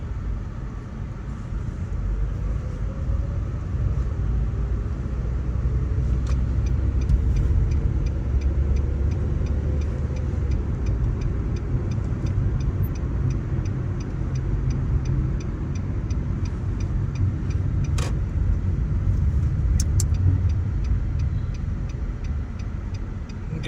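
A car engine hums steadily as the car is parked during a driving test. The low, even idle and rolling drone continues throughout with faint road noise and no speech.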